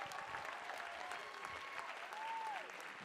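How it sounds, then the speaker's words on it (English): An audience at a Martin Luther King Jr. birthday celebration and community service awards gives a sustained round of applause, with many hands clapping at a moderate distance while a voice briefly speaks over it. "Let's give another round of applause,"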